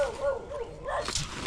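Dogs kept for security bark in a quick, yipping burst over a busy, noisy background. They sound fairly close and fill the short moment.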